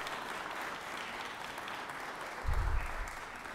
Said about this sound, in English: I would ask if you don't mind giving those guys a round of applause